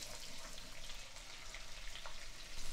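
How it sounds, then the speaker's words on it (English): Sliced onions frying in melted butter in a nearly full pot for French onion soup, a soft, steady hiss and sizzle with faint crackles, fairly quiet and without talk. "my butter is melted, so I'm gonna go ahead and add my onions"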